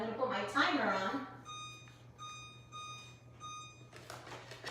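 A kitchen timer beeps in a series of short, high electronic tones as its buttons are pressed, close by, after someone talks briefly.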